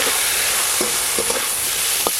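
Onion petals fry lightly in oil left over from frying fish, giving a steady close sizzle with a few soft stirring knocks scattered through it.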